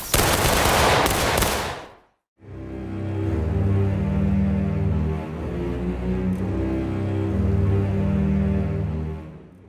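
Musket volley in the Civil War game War of Rights: a dense crackle of many shots at once, a brief silence, then a long rolling, rumbling echo of massed gunfire.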